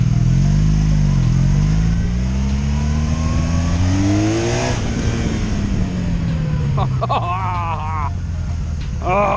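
A 2002 Honda Magna VF750C motorcycle revs while being ridden, its engine note climbing and falling through several gears, loud and close, as the rider talks over it.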